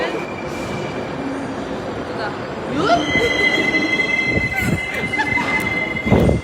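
A metro train running through a station or tunnel, loud rumbling rail noise with rising high metallic wheel squeals and screeching tones, while people talk faintly underneath.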